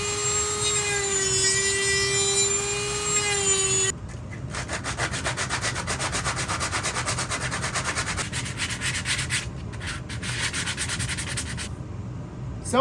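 Stormtrooper costume armor shoulder straps are worked with a Dremel and then sanded: a high whining rotary tool runs briefly, followed by a long stretch of steady, close, rhythmic rubbing and scraping strokes.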